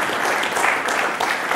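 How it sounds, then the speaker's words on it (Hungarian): Audience applause at a quiz show, a brief burst of dense, loud clapping that holds steady throughout. "ismét nagy tapsot kérünk."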